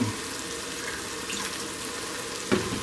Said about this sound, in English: And I'll go ahead and get the vinegar poured up